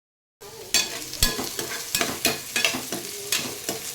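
Onion and tomato frying in a pan for egg rice: a soft sizzle runs under repeated sharp spatula scrapes and clatters that come at an uneven rhythm.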